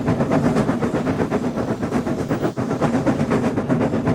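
A steam engine hauls a nine-coach express train with a loud, steady rhythmic chuffing and rumble that runs unbroken and close.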